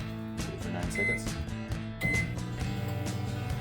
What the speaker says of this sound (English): Microwave time will vary slightly.